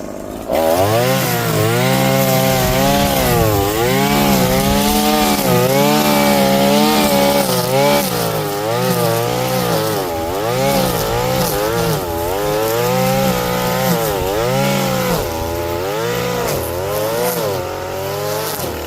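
A petrol power tool trims brambles on a bridge: a loud, close, buzzing two-stroke engine runs for the whole stretch, its pitch rising and falling repeatedly as it revs and bogs into the growth.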